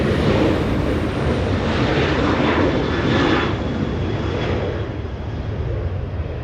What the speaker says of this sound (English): Southwest 2836 flying to San Jose, California. 737-800.